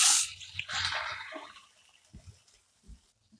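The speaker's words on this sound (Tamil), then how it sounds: "1 டம்ளர் அளவுக்கு தண்ணி சேர்த்துக்கிறேன்." Water pours from a tumbler into a cooking pot with a splashy rush that quickly tapers off into a few soft drips and small plops, close by and with no speech.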